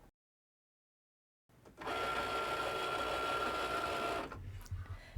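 A Cricut Maker print-and-cut machine cuts magnet sheet after the scanning step, giving a steady mechanical whirring hum with a faint tone, starting after a pause and running about two and a half seconds before a few small clicks.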